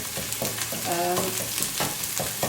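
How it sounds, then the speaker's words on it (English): Onions for matar paneer crackle and sizzle in hot oil up close, a steady frying hiss with occasional scraping stirs and no talking. "You will notice that the onions are now sizzling in the oil that they've released."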